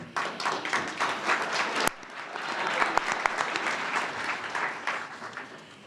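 An audience at a university humanities scholarship award ceremony claps for about six seconds, a dense, sustained wash of applause with a few sharper individual claps standing out near the end.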